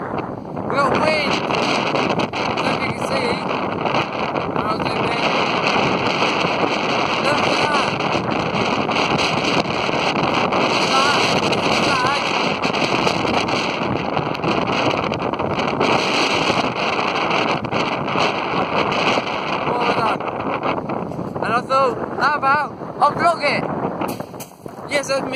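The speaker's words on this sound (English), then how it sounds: "it is so windy that I am shouting at the top of my voice" Strong gusty wind at the seaside in Sandgate buffets the microphone in a continuous loud rumble, with a person shouting over it much of the time.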